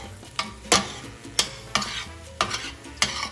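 Thick refried beans being stirred around in a pan, a series of scraping, sizzling strokes about every half second to second, close and fairly loud with a steady frying hiss underneath.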